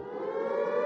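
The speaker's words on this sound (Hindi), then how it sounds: "भिकारिस्तान में सायरन का गलत इस्तेमाल" A siren wails in a brief, steady, slightly rising tone, moderately faint and alone, lasting under a second.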